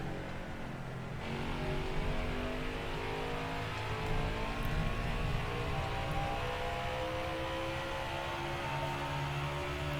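Race car engine in NASCAR Heat 5, held under steady throttle at New Hampshire: a loud, continuous droning roar with rising and falling harmonics, running alone for the whole stretch.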